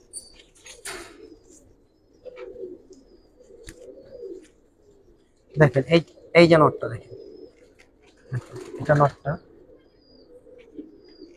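Low, soft cooing of Giribaz pigeons recurring in bursts, close by in a loft in Old Dhaka, interrupted by someone speaking nearby in short phrases.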